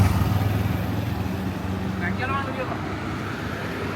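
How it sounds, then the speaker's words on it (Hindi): Traffic rumbles along an Indian market street, a low steady drone of passing motorbikes and cars with some wind buffeting, while a person talks close by. "ट्रैफिक का शोर बहुत है।"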